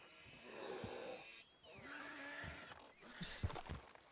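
A bear roaring in a video game, a couple of low growling roars near at hand, followed by a horse's sharp squeal, with someone talking between them.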